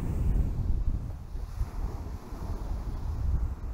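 Rough sea surges against the shore at Lee-on-the-Solent while strong wind buffets the microphone, a loud rumbling, gusting roar that swells and eases throughout with no talking.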